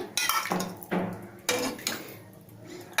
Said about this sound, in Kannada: ಈಗ ಸಾಂಬಾರನ್ನ ಬೌಲ್ಗೆ ಹಾಕ್ಕೊಳ್ತಾ ಇದ್ದೀನಿ